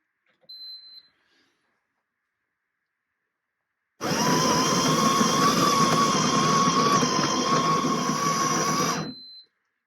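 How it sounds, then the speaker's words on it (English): Ninja Luxe Cafe Premier coffee machine grinds espresso beans in a loud, steady whirring burst lasting about five seconds after a short electronic beep, followed by another beep. "Let's press start grind."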